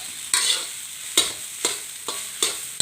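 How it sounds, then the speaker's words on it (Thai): Rice fried with egg and Vietnamese pork sausage in a pan: a steady sizzle cut by five or six sharp, evenly spaced spatula scrapes, close and fairly loud with no voices. "ผัดข้าวครับทุกคนผัดข้าวให้เจ้านาย ตอนเช้า"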